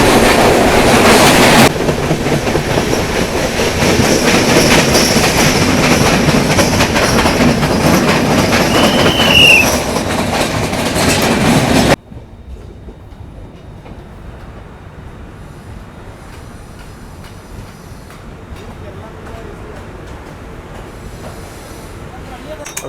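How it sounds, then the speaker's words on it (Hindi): Loud, steady rumble and rattle of the Mandovi Express running on rails, with wheel clatter and a brief squeal, then an abrupt drop to quieter rolling noise for the second half. "अभी देखो अपनी ट्रेन जस्ट पहुंची है रत्नागिरी"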